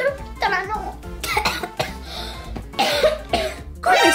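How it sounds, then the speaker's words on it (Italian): A girl coughs several times at close range, sharp bursts scattered across the moment, with some throat-clearing between them and no speech. "E poi quella tosse, scusami, come mai?"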